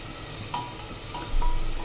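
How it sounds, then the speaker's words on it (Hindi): Onions fry in mustard oil, a steady close sizzle that holds even throughout and swells slightly near the end, with no talking. "सरसों का तेल लिए हैं और इसमें प्याज को फ्राई कर ले रहे हैं।"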